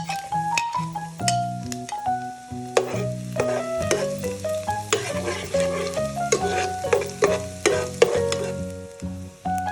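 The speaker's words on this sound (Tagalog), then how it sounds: "Saute lang natin yung ating garlic" Garlic sautés in cooking oil for pancit bato guisado, a light sizzle with frequent clicking stirs against the pan, set against steady melodic background music.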